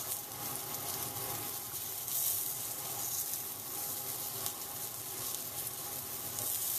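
Ahi tuna burgers sizzle in a preheated, smoking-hot pan, a dense, steady frying hiss that stays loud and continuous throughout.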